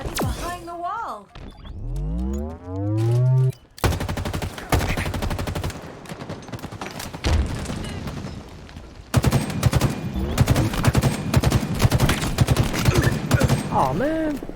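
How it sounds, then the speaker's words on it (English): Assault rifle gunfire in Halo Infinite, loud sustained automatic bursts with dense rapid shots after a rising whooping electronic sweep, continuing with intermittent bursts alongside other game effects. "They really did a good job with the assault rifle in this game."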